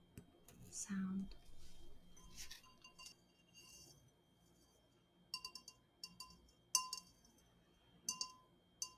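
Fingers tap a glass vase during a floral session, giving a few sharp, bright clinks with short ringing tails between quiet stretches, close to the mic, with soft whispering at the start.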